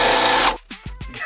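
A power drill whirs at high speed for about half a second while drilling holes, then stops, followed by a few short bumps and thuds nearby.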